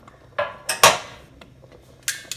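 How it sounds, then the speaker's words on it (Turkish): Several sharp metallic clanks and clinks as a steel colander is set over a pot of simmering pepper paste, a few quick knocks close by, with a faint bubbling bed underneath. "şöyle bir çelik kevgir kapatıyorum üzerine"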